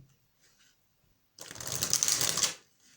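Tarot cards are shuffled in one quick burst of riffling and rustling lasting about a second, close and moderately loud after near silence.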